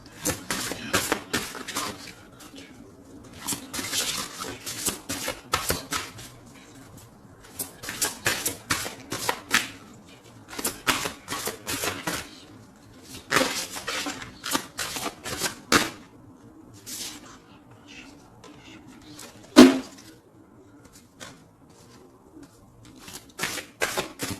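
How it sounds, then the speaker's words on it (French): Oracle cards shuffled for a tarot reading, bursts of quick riffling and slapping card sounds close up, repeating in clusters separated by short quiet gaps, with a sharp tap near the end. "Je vais faire un petit oracle de Rumi"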